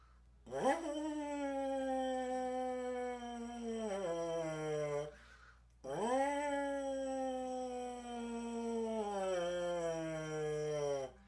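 A buzzing brass-like tone from a euphonium mouthpiece imitates a fire truck siren, rising sharply then slowly falling, twice, each wail a few seconds long with a short gap between.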